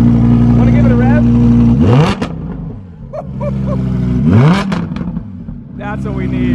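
A supercar fitted with a Fabspeed Valvatronic exhaust and tune idles with a deep, loud drone, then rises sharply through two revs and settles back to idle, with people talking over it.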